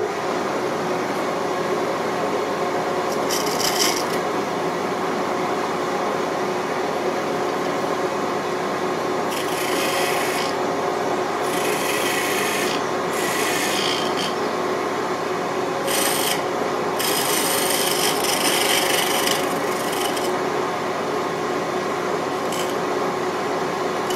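Sandpaper rubs against a wooden goblet spinning on a lathe, a steady close rasping hum with a motor drone underneath, broken by several brighter bursts of scratchy friction as the paper is pressed harder.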